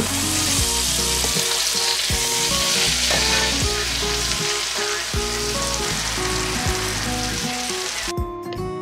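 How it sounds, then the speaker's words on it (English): A roast sears in a hot pan at home, giving a loud, steady sizzle that crackles continuously and carries some metallic clatter, ending with a brief change near the close. "Like every time I put a roast in the oven or something like that, I always sear it first so there's more flavor."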